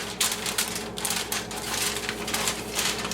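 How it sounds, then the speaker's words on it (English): Aluminum foil is wrapped around a seasoned pork butt roast in a dish, giving close, continuous crinkling and crackling with rapid uneven bursts of rustle. "So you need some aluminum foil at this point. And just going to wrap it."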